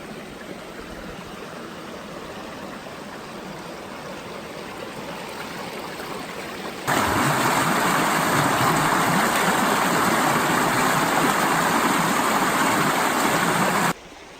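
A wild brook trout stream in Luzerne County, Pennsylvania, flows steadily in December, a continuous rushing wash of water that grows noticeably louder and brighter halfway through before dropping back.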